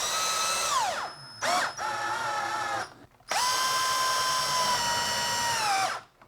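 A power drill driving screws into a two-part slip casting mold, whining up and winding down in three separate bursts with brief pauses between, close and loud.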